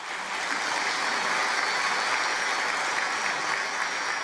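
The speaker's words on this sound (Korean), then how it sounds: "짧고도 위대한 깊은 말씀에 다시 한번 감사의 박수를 해드리면 고맙겠습니다." A church congregation applauds at a March 1st Independence Movement Day commemorative prayer service for peaceful reunification, steady dense clapping throughout, moderately distant and alone.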